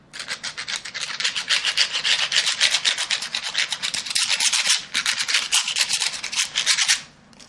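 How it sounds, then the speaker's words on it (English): A tattoo part being rubbed by hand to remove excess burr, a continuous close scratching rasp in steady strokes for about seven seconds, no voices. "If you listen very closely, you can hear it scratching across. It's taking the excess burr off of this."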